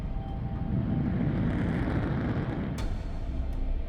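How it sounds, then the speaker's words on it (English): Air Force One, the presidential plane, roars steadily as it takes off, a loud, continuous broadband engine rumble with no break and a couple of brief sharp clicks near the end. "They get on the plane and they just take off."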